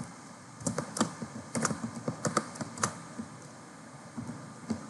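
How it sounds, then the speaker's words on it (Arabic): Keys clatter on a computer keyboard while Python code is typed, in short irregular bursts of clicks, close and fairly quiet, with no voice over them. "نكتب برنت اخر حاجة"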